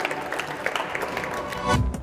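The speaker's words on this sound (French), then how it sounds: "Je vous demanderai de l'applaudir, s'il vous plaît." An audience at a Swiss food fair cooking show in Bulle applauds, a dense, moderately distant wash of many hands clapping, steady and even, swelling slightly toward the end.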